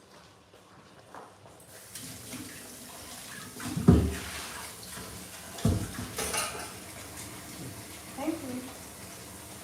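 Water runs from a kitchen tap beside a sink with boiled eggs, a steady rushing stream joined by clinks of dishes and pans, with a person speaking briefly over it.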